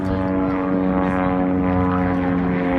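Propeller airplane engine at an airshow, flying aerobatics, drones loudly and steadily throughout with a strong buzzing harmonic tone and no voices.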